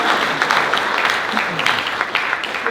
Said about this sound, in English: give my man Curtis a big round of applause